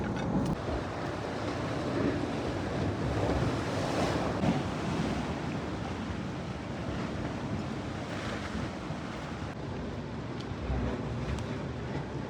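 Wind and waves at a village seashore, a dense continuous roar of surf mixed with gusty wind buffeting the microphone, steady and loud with no talking.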